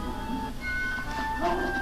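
Dogs barking and whimpering on a film soundtrack from the old B-movie Attack of the Giant Leeches, the yips and howling tones carrying over a steady background hum with a faint voice.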